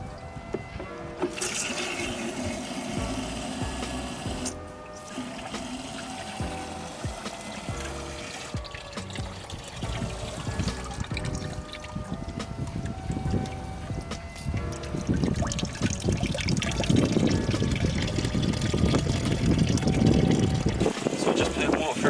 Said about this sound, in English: It's going through the system and trickling out underneath in the bucket.